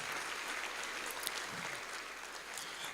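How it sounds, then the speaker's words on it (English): Audience applause honoring panelists at a Marketplace Millionaires legacy event, steady broadband clapping from a crowd with no voices over it, even in level throughout. "Let's give a round of applause to our panelists."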